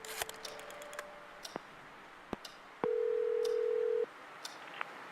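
Telephone keypad tones ring out one by one as a number is dialed in the Scratches game, followed by a longer steady tone, with sharp clicks and beeps scattered around it and no voices.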